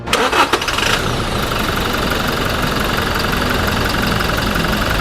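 A Toyota Fortuner 2.4 diesel cranks briefly with a starter whir and catches, then settles into a loud, steady close-up idle with a rough, knocking diesel clatter.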